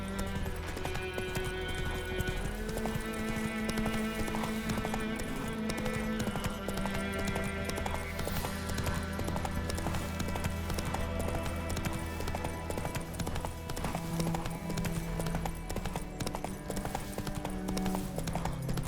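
Horse galloping in the video game The Witcher 3, steady clip-clop of hooves running under a full, continuous music score, with a brief whinny partway through.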